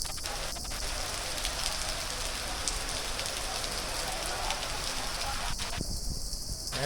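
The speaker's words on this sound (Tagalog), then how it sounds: "Grabe yung ulan. Malakas." Heavy rain pours down steadily, a dense hiss of drops drumming on surfaces, loud and continuous throughout.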